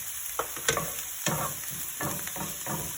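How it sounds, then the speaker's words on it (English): Lentils tossed into a hot frying pan with zucchini, giving a soft steady sizzle broken by several distinct stirring scrapes and clatters at irregular intervals. "Then we're going to throw in some lentils."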